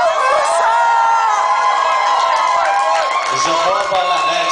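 Crowd at a live show at the Frogstock 2011 festival, a loud continuous roar of voices, shouts and whoops close up throughout, with cheering swelling and mixing with scattered individual cries.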